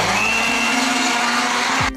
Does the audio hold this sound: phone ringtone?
no